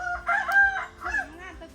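A rooster crows once nearby in a rural Udon Thani setting, a single rising-and-falling call lasting about a second, clear and fairly loud with a faint background.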